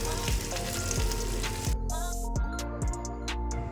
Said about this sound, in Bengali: ওই একটুখানি তেলের মধ্যেই কিন্তু একটু কালো জিরা ফোড়ন দিয়ে দিলাম আর একটুখানি কাঁচা লঙ্কা দিয়ে দিলাম